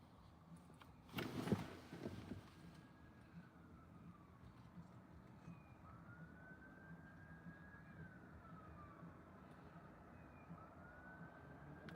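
Faint emergency vehicle sirens wail far off at a sunset outdoor spot in Cape Breton, Nova Scotia, a slow rising and falling tone after a brief louder rustle, heard alone.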